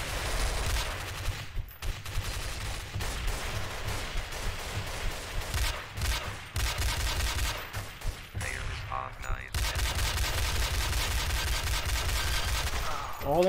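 Gunfire in Counter-Strike: Source during a gun game round on a 200-tick server: dense, loud volleys of rapid shots crackle almost without pause, with only brief gaps between bursts.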